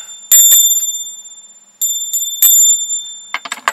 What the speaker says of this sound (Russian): Нажимаем на колокольчик,